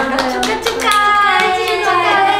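Group of women, K-pop idols, clapping in celebration at a party, a dense rapid burst of applause filling the whole moment, close and loud, with excited voices mixed underneath.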